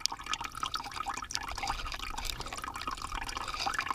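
Water drains and trickles from the drain nipple at the base of a newly installed water hydrant, a steady close splashing with scattered drips throughout, no voices.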